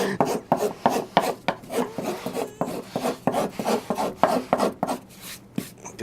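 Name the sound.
filing a burr off an MDF router base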